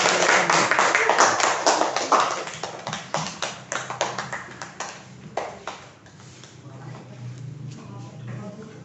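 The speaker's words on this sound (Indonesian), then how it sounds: "Tepuk tangan untuk kelompok 1 dulu." A classroom of pupils claps for the first group, sharp hand claps pattering quickly then thinning out over several seconds, with faint voices murmuring underneath.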